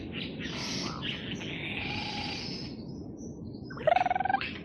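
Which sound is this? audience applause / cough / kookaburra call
kookaburra call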